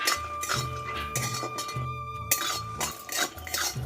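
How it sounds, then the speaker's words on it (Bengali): Cashews and dried red chilies are lightly fried and stirred in a pan, heard as repeated metallic clinks and scrapes of a utensil against the pan in an uneven rhythm, close and fairly loud, with no talking. "এটা আমি হালকা করে একটু ভেজে নেব, একটু নেড়ে নেব"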